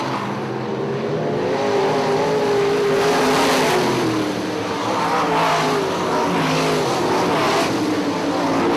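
IMCA modified race cars roar around the oval at Ionia Raceway Park, a loud, steady engine drone from a nose-to-tail pack, the pitch rising and falling as they pass through the turns.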